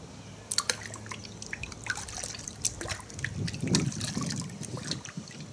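Thick, concentrated Adams car shampoo, a viscous liquid, pours and drips into a bucket, heard as close irregular drips and trickling splashes with a swell of liquid noise near the end.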